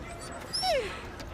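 A dog whines briefly, a single rising-and-falling whimper near the middle of the moment, heard close up against quiet background noise.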